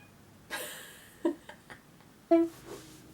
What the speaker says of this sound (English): Oh my, can you hear my cat?